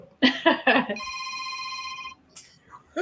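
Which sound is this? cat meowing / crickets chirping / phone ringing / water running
phone ringing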